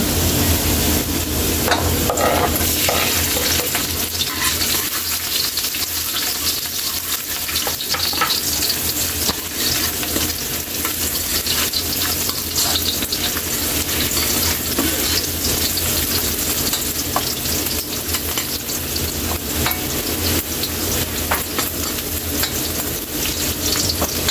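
Ginger and garlic frying in a pan of oil while a milkfish soup is cooked, a loud, steady sizzle with crackle and stirring throughout, no talking.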